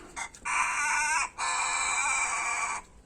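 An Australorp rooster crows loudly and close by, a short opening note followed by two long drawn-out calls with a brief break between them.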